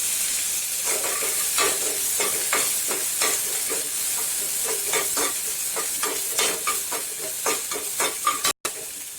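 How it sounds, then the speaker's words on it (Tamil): Chopped onion for rava upma sizzles and crackles in hot oil, with irregular stirring scrapes and bursts of frying noise throughout, no voices. "ஒரு பெரிய வெங்காயம், அதையும் நறுக்கி வச்சிருக்கேன், அதையும் போட்டுக்கோங்க."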